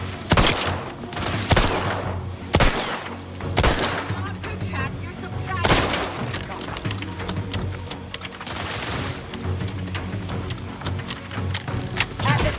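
Gunfire in The Outer Worlds 2, loud sharp shots in an irregular volley with bursts of rapid fire between, mixed with game effects and a synthetic voice.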